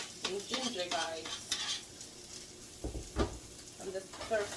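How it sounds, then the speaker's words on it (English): Garlic and onion sizzle and scrape in a pot as they are stir fried, with clinks of a utensil and a voice talking over the frying. "I'm going to be stir frying my garlic and onion and"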